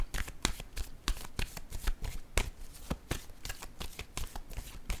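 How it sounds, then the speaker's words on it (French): Tarot cards are shuffled close up in quick, crisp riffling bursts of flicks and slaps that run on continuously. "Attendez une minute, je vais piger une autre carte."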